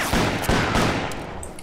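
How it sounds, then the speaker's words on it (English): Gunfire in the Western shooter game Call of Juarez, a quick burst of several sharp shots in close succession, loud and near, with no talk over it. "Shooting me through a window."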